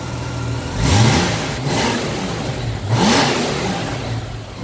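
A Honda GL1500 motorcycle engine blips its revs twice and then settles back down toward a steady idle. The engine is loud and close, and there is no talking.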